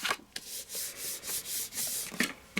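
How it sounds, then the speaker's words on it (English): Cardstock is folded back and down along its score lines, giving soft, close rubbing and scraping strokes in a quick, even rhythm, with no talk. "Fold that back and fold that down."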